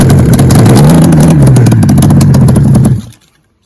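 A vintage Polaris triple engine cranks and catches, then revs loudly with a rising and falling snarl. It cuts out abruptly near the end, leaving near silence.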